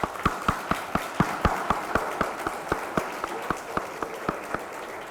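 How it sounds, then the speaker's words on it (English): Rhythmic clapping from an audience at a law lecture series, many hands beating together in a steady pulse for about five seconds, moderately loud and without talk. "A huge round of applause for him."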